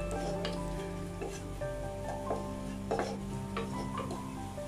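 Onions frying with Kashmiri chili powder in a pan for a Kerala mutton dish: a steady sizzle with occasional stirring scrapes and light clinks, no voices.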